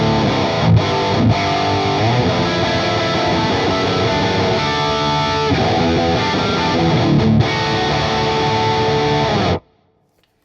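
Electric guitar played through a Neural DSP Fortin NTS amp plugin with overdriven distortion, loud and dense with sustained chords and riffs, cutting off abruptly to silence near the end.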